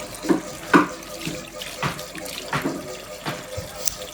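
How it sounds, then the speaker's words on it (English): Garden eggs being rinsed under a running kitchen tap: irregular splashing and trickling water with a few louder splashes, close by and alone. "So I washed the garden eggs"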